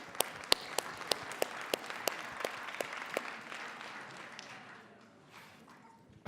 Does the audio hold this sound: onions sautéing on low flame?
no